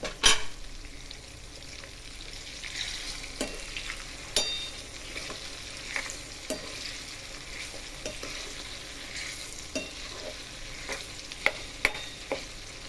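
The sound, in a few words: tomatoes, garlic and chillies cooking in a pan on gas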